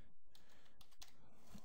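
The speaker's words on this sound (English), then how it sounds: "The other way you can enter in the date is you can just type in whatever date," A computer keyboard is typed on at a desk to enter a date into church donation software. A few soft, close key taps sound quietly, with no talking.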